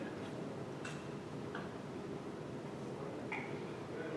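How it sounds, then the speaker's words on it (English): A 4-second clock ticks faintly in the background of a baseball infield drill, giving a handful of soft, evenly spaced ticks over a steady low ambient hum. "you can hear the clock, the 4-second clock"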